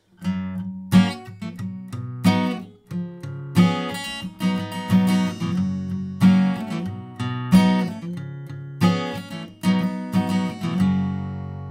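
An acoustic guitar strums the chords of a song in a steady rhythmic pattern of down and up strokes, clear and close, with no voice.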